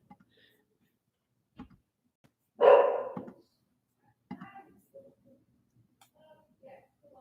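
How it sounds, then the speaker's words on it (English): A pet dog barks indoors in one loud burst, followed by a few fainter yips and short sounds in an otherwise quiet room. "my dog's barking right now"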